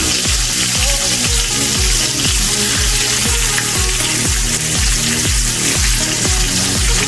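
Chicken breast sizzles and fries loudly in a pan, a steady crackling hiss with a repeating low rhythmic thump running underneath throughout.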